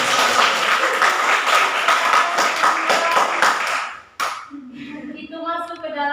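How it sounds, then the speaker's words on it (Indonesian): Students in a classroom at a vocational high school in Manggarai Timur, Indonesia, clap steadily for about four seconds as dense, loud applause, which stops abruptly before a voice begins speaking. "tepuk tangan buat kalian."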